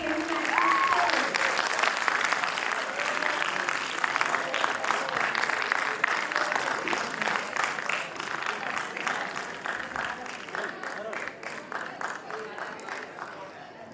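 Sustained audience applause for the student winners of a school military history quiz, dense clapping throughout that gradually thins and softens toward the end, with faint voices underneath.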